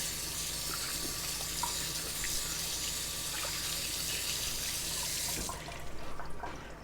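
Hands are washed under a running kitchen tap, a steady splashing water rush that stops near the end, leaving faint drips and brief handling sounds; a single spoken word is heard.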